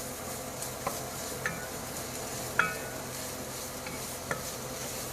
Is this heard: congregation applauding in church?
no